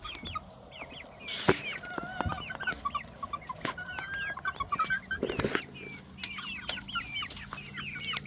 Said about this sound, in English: I love seeing the chickens at this stage.